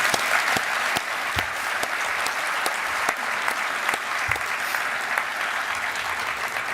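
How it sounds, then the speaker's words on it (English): A steady round of applause from a large audience at an MVP award speech, close and even, with a few sharper individual claps standing out from the dense clapping. "you deserve a round of applause for sure"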